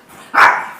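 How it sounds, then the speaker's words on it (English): Single sharp, loud bark from a sausage dog (dachshund) at close range, preceded by a faint murmur. "Sausage dogs."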